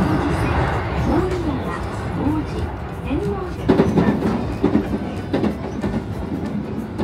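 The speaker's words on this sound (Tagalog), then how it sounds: "Andiyan na guys yung tren natin. Yan yung Nara line." A white Nara Line train in Japan runs along the rails with steady clickety-clack wheel rhythm and rumble, heard close by under people talking.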